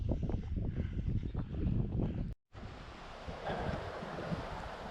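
Water rushing steadily beside a hiking trail on the Quilotoa Loop in Ecuador, a continuous broadband wash with gusts of wind buffeting the microphone, briefly cut out partway through.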